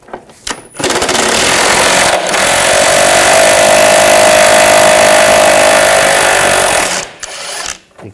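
A 15 mm socket on a power tool spins nuts off under a 2013-2019 Ford Escape, a loud, close, steady mechanical whir lasting several seconds, bracketed by short bursts and quiet gaps.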